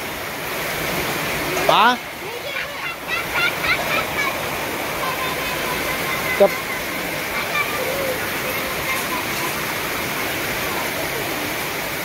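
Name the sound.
heavy rain pouring outside during power cut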